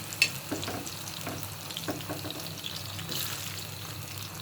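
Chanachur crackles and sizzles in hot mustard oil in a pan, with a steady frying hiss and scattered stirring scrapes, close by and without talk.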